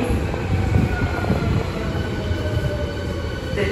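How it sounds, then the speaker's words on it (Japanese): An Osaka Metro Sakaisuji Line train rumbles and rolls in close by at platform 1 of Minami-morimachi Station, a heavy low roar with faint wheel squeal, steady throughout. "1番線に到着の電車は境筋本町日本橋動物園前方面千ヶ茶屋行きです。"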